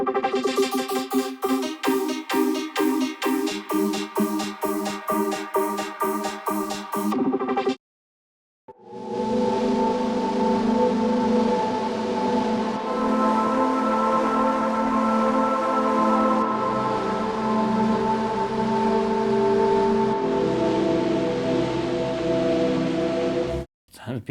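A grain synth preset from a VST plugin plays choppy, rhythmic stuttering pulses for several seconds. After a brief gap, layered, shimmering sustained tones swell and evolve, with no talking.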